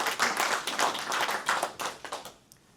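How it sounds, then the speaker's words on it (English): An audience claps for military veterans in a dense burst of applause that holds steady, then thins out and fades over the last half-second. "Round of applause for the people that served our country."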